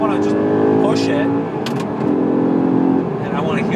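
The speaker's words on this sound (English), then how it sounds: "I want to rev the engine up and I'm in 3rd gear and I want to just push it," An Audi R8 supercar engine revs hard in third gear while driving, a loud sustained roar rising and holding steady throughout with a brief dip midway.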